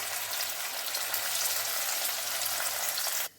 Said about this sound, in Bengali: পনির ভাজা হচ্ছে